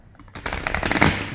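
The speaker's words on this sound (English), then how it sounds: "Just quick shuffle" Tarot cards riffled in a quick shuffle, a dense burst of close papery flicks after a brief quiet start, continuing to the end.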